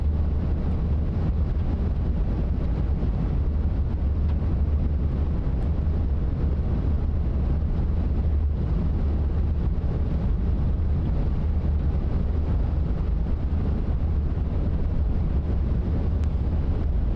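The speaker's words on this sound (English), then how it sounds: "We do have a lot of wind right now" Strong storm wind in South Dakota buffets the microphone in a continuous loud, rumbling roar that holds steady throughout with no clear breaks.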